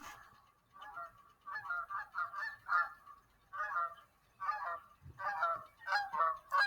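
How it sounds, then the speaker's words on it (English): Harsh, croaking double-crested cormorant calls in repeated bursts, moderately distant, near fish pens on Oak Orchard Creek by Lake Ontario, with brief pauses between groups of calls. "you can hear these birds called the cormorants. These are the double-crested cormorants"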